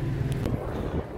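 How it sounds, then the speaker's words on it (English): Wind buffets the microphone outdoors in Strasbourg in a steady low rumble for a moment, blotting out other sounds. "pardon the wind"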